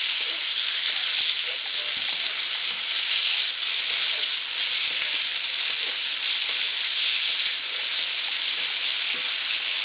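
Spaghetti cooking in a pan with garlic, anchovy and lemon, giving a continuous, even, hissing sizzle from start to finish with no talk over it.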